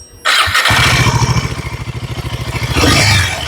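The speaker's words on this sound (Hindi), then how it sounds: "Now see, listen to the engine sound." A Royal Enfield Himalayan 450 motorcycle engine, freshly filled with performance engine oil, fires up and settles into a loud, close, steady thumping idle, then rises in a short rev near the end.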